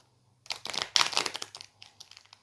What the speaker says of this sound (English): something is wrong with my shuffling today.